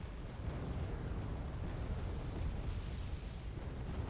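Bombs landing in Wargame: Red Dragon make a continuous heavy rumble of explosions, steady and loud throughout the short stretch with no talk.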